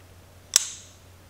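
A single sharp metallic snap as the folding blade of a brass-knuckle pocket knife is pulled up, a near, loud click with a short ringing tail, alone in a quiet room.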